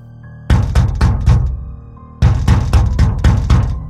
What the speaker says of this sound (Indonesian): ketukan di pintu di depan rumah Mujib itu